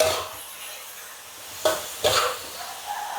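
Seasonings stir-fried with fermented soybean paste, chillies and fried garlic in a pan: a soft steady sizzle with two distinct scraping stirs of a utensil against the pan and lighter stirring afterward.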